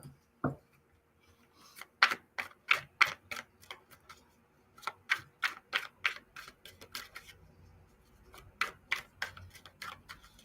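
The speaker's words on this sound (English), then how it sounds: "I'm shuffling these cards up." Tarot cards being shuffled by hand, a run of crisp, sharp riffling clicks in quick irregular bursts with short pauses between them, close up and alone without talk.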